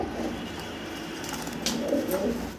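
Pigeons at a pigeon sale, the near birds giving soft, low, rolling coos that swell toward the end over a faint background hum.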